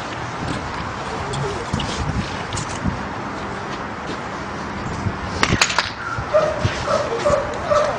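Pit bull dogs bark and yip in short bursts amid a noisy outdoor scene, with louder clustered barks toward the end and some background voices.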